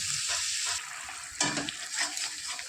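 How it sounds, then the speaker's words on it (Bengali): Masala paste of garlic, onion, green chilli and tomato sizzles steadily in a pan while being stirred, with scraping bursts from the spoon and no voices. "ভালো করে মশলাটা কষিয়ে নেব"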